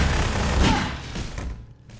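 Magnum revolver shots in the Half-Life 2 Deathmatch game, heavy booming gunfire crowding the start and fading toward the end, loud and close amid a busy match mix.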